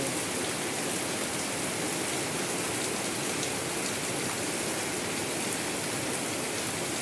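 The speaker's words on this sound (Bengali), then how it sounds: "বৃষ্টি হচ্ছে।" Heavy rain pours steadily on tin roofs during a monsoon downpour in Rangpur, northern Bangladesh, a dense, unbroken hiss with no voices, running evenly throughout.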